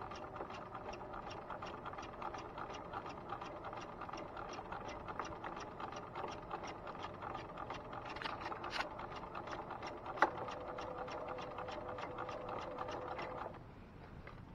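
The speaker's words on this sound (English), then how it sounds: "you can sew over your pins as long as you go slowly" Sewing machine running slowly while stitching an elastic casing over pins, a steady, even rapid needle rattle that continues close up for most of the time and then stops.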